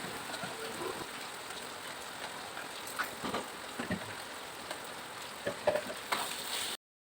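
Steady crackling sizzle of chili paste and spices sautéing in hot oil, with scattered louder pops and spatters, close and continuous with no talking.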